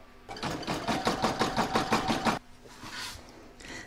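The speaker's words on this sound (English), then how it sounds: "Pop it in my machine and stitch round number 12." An embroidery sewing machine stitches a round of a patchwork star design in a fast, steady run of needle strokes for about two seconds, then stops, leaving quieter handling noises close by.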